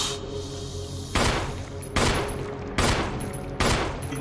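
Four heavy, evenly spaced shots from a gun in the video game Resident Evil boom out under a steady low background hum.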